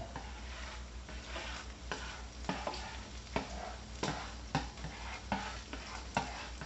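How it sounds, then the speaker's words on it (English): Butter sizzling in a hot pan while a utensil spreads it around, a steady frying hiss broken by soft scraping strokes at an irregular pace, close and fairly quiet with no talking. "Once the butter is melted, spread it around the pan."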